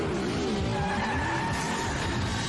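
A car engine roars steadily while tires skid and squeal continuously, a loud, sustained screech with engine drone underneath and no pauses.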